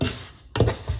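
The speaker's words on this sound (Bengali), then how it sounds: "এটাকে আমি এখন আস্তে জাল দিয়ে একটু ভেজে নিব" Two packets of local vermicelli are roasted in a pan over low heat, giving a soft sizzle and a quick scrape of stirring in one brief burst.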